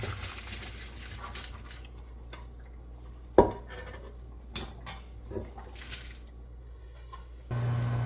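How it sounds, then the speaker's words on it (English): Cooked pasta being strained in a kitchen, with scattered clinks of pots and utensils, a few sharp metallic knocks, and a louder rush of water and clatter near the end, no talking. "Now we have to strain the pasta."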